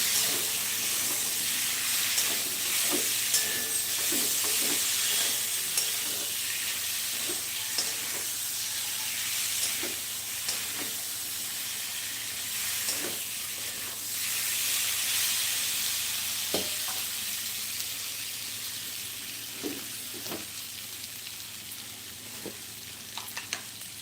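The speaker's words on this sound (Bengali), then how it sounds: "মশলাটাকে একদম ভালো করে কষিয়ে নেবে" Spice paste sizzles steadily in a pan while being stirred and cooked down for a rohu fish dish, with frequent sharp scrapes and clacks of the spoon against the metal over a continuous frying hiss.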